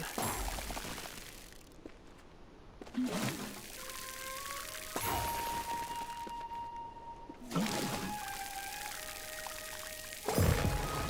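Plants being watered in the video game Grow: Song of the Evertree, heard as repeated splashing pours of water every couple of seconds with soft chime and ping tones ringing between them.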